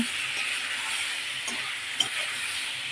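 Fish sizzling as it fries in hot oil with spices for a drumstick recipe, a steady close hiss with a few faint clinks of a utensil against the pan.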